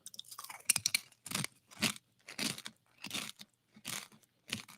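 Close-up chewing of crunchy yucca chips, an initial bite followed by a regular series of crisp crunches with brief quiet gaps.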